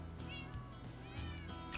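A pet cat meows several times indoors, short, clear mews spaced through the moment, fairly close and moderately quiet over a low steady background hum.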